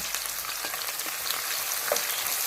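Shrimp and dried fish fry in a pan with a constant crackling sizzle, scattered pops and spatters throughout, close and fairly loud, no voices.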